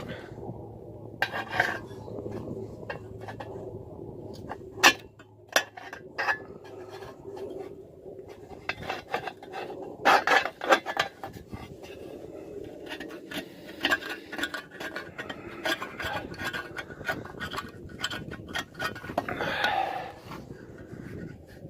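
A knife scraping old mirror glass off a vehicle's side mirror, producing close, irregular scrapes, rasps and sharp clinks in bursts with quiet gaps between.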